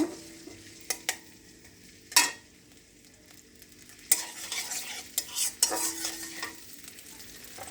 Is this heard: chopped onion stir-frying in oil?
yes